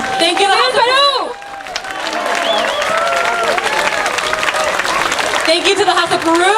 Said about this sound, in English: We want to do a big round of applause.